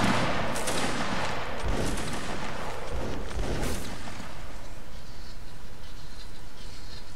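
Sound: musket volley fire in a regiment battle video game

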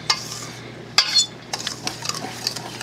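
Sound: mixing cocoa, salt and dry cake ingredients in a bowl

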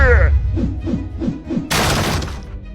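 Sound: house being smashed during a village attack in a video game

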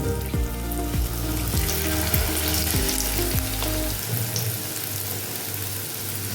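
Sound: frying egg and cauliflower batter in oil

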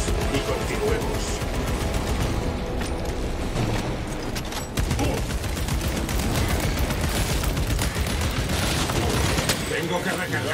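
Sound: gunfire in the Warhammer 40000: Space Marine 2 video game

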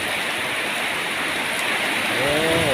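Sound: rain falling

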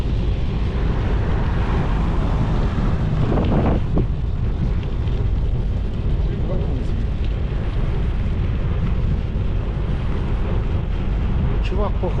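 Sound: wind blowing into the microphone while cycling

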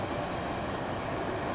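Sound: CSX freight train Q561 passing

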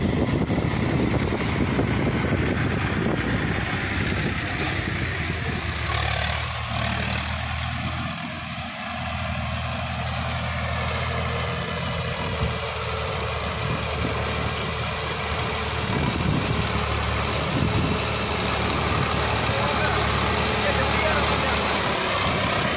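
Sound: Swaraj 960 tractor engine running

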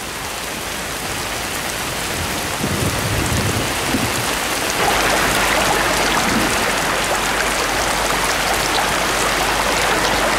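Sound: torrential rain in the mountains

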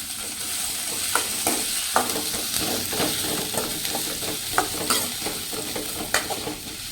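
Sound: onions sautéing in a frying pan

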